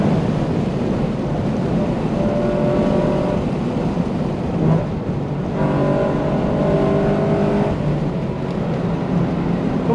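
Time attack Corvette engine at NJMP Lightning track day, a continuous loud drone heard from inside the car, rising and falling in pitch through gear changes and throttle lifts.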